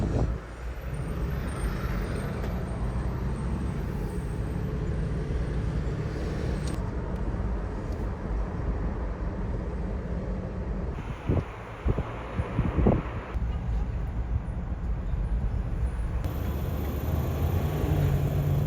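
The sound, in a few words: 4Runner driving along the Las Vegas Strip at night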